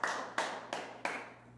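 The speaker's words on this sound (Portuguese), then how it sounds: "Ele aplaudiu só ela, né?" A single person claps in a talk show studio, four sharp, evenly spaced claps ringing briefly, fairly close, with no other audience joining in.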